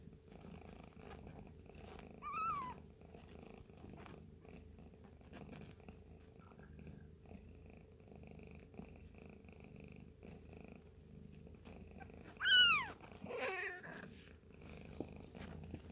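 A mother cat nursing her kittens purrs in a soft, steady rumble, broken by two brief, high mewing cries, one early and a louder one near the end.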